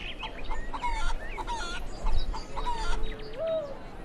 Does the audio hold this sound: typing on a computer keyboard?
no